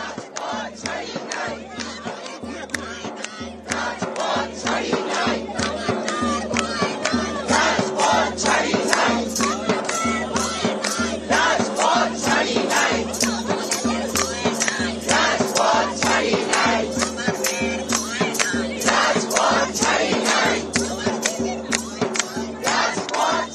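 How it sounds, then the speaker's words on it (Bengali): Protesters chant slogans in a loud, rhythmic, steady crowd chorus at a police barricade at Hazra crossing in Kolkata, sustained and close. "হাজরা মোড়ে পুলিশের ব্যারিকেডের সামনে বিক্ষোভ স্লোগান"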